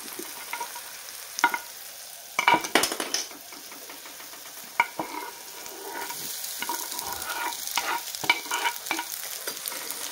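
Cut eggs added to sautéed masala and tomato for egg bhurji, a low steady sizzle with a few sharp spoon taps and scrapes against the pan, fairly quiet and close.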